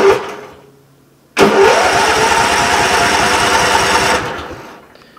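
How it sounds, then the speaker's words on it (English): Craftsman lawn tractor engine cranking slowly on the starter after sitting, a steady labored churning of about three seconds that starts abruptly after a short pause and then cuts off. "It's cranking real slow."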